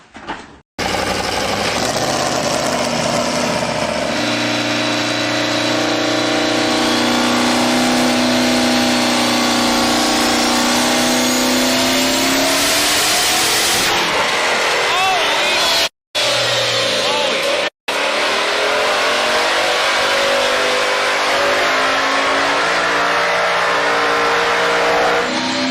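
A race car engine revs loudly and continuously, its pitch rising and falling as it accelerates, broken by two abrupt cuts near the end.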